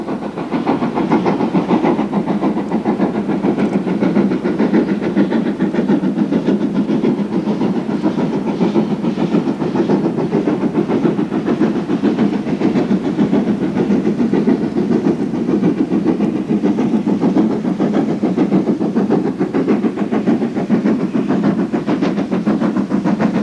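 A Great Western steam locomotive in full Great Western livery hauls a prestige British Rail train up the bank from Stroud on the Gloucester to Swindon line, giving a loud, steady, continuous working rumble throughout with no voices.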